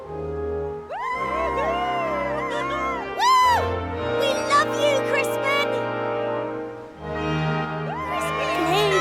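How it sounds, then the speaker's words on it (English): Crowd cheering and whooping in the video game Dragon Quest VII Reimagined, a continuous excited roar of many voices over steady background music, loud throughout with small surges. "The crowd are getting rather worked up."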